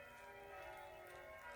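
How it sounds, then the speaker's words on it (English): Automatic bells ring from the big tower of a Catholic church, a sustained faint metallic tone with layered overtones heard from a distance and without speech. "these automatic bells"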